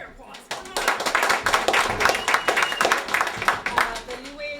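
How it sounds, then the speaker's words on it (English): Audience applause at a poetry reading, a dense stretch of steady clapping after a soft start that keeps up fairly loud to the end. "That's another applause."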